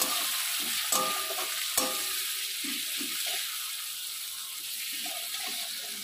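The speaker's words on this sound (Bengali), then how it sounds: "পেঁয়াজটা এবার লাল করে ভাজবো।" Onions sizzling in hot oil as they fry to brown for a Bengali chicken and potato curry, a steady crackling hiss with a couple of sharp utensil clinks and stirring scrapes near the start.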